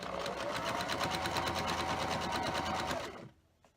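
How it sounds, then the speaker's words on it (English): A sewing machine stitches quilt triangle pairs along their short side, a fast close rhythmic whirring run of about three seconds that winds down and stops. "I'm sewing on the short side"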